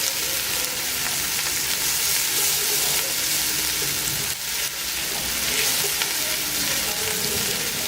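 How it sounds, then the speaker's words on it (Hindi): Ginger garlic paste frying with onions in a pan, a steady close sizzle and crackle of oil that runs for the whole stretch, with faint stirring scrapes and no talk. "इसको भी तकरीबन 2 से 3 मिनट के लिए हमें भूनना है।"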